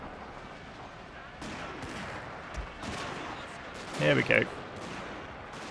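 Suppression gunfire in the strategy game Shogun 2: Fall of the Samurai, scattered muffled musket volleys crackling at a distance under a voice, with a brief louder burst near the end.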